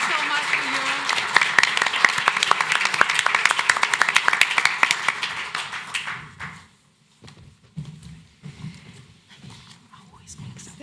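A crowd claps steadily for about six seconds, then the applause fades away, leaving quiet room noise and faint murmuring.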